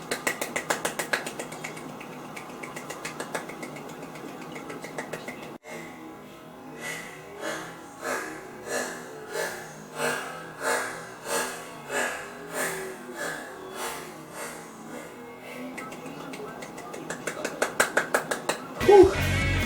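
Rapid hand claps in a timed ten-second record attempt ring out as a fast, steady run of sharp, close, loud hits. A voice talks before the run starts, and heavy breathing follows it.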